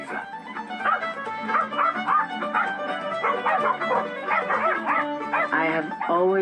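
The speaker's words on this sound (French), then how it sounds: "mais ils se mettent à aboyer et tentent de charger les chevaux" Two dogs bark, yip and whine excitedly and continuously at horses on a ranch, close and loud, with their high cries overlapping.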